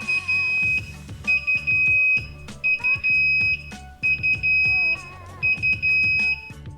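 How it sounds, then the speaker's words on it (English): Loud, piercing electronic beeps from an Inkbird ITC-308 temperature controller alarm repeat in rapid bursts, grouped in short sets with brief gaps between, sharp and insistent. "The alarm will sound like this."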